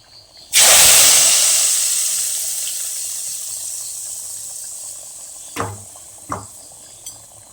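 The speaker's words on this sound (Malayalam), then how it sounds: "എന്നിട്ട് കടുക് വറുത്തത്" A loud burst of sizzling as mustard seeds tempered in hot oil are poured into a homestyle roasted-coconut cashew curry, fading slowly over several seconds, with a few faint clinks of utensils afterward and no talk.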